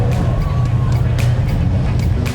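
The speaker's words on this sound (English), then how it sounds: "he ends up on throttle, gunning it straight into the wall" A Formula Drift car's engine roars on throttle after spinning out into the wall at the 2022 season finale, a loud, low, continuous mechanical rumble with faint crowd babble underneath.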